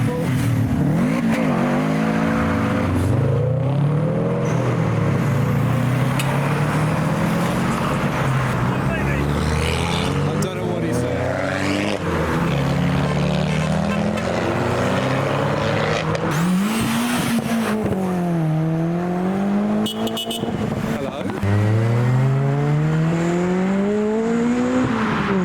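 Two Subaru cars leave a car meet, engines revving repeatedly in rising and falling sweeps over steady outdoor crowd noise and voices. Some passes sound close and loud.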